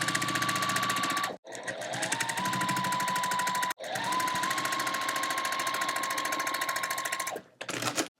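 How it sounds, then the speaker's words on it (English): A sewing machine stitches fabric pieces corner to corner for a quilt, running close and loud in a steady rapid whir with brief stops between three long runs and a short final burst. "You're going to want to stitch corner to corner on all 3 of these pieces"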